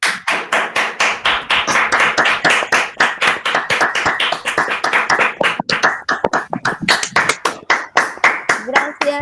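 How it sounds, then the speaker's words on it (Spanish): Audience applause for a speaker after a talk, sparse distinct hand claps from a small group sounding close and rhythmic, the claps fairly even in pace and continuing without a break. "Un aplauso para el doctor Carlos, por favor."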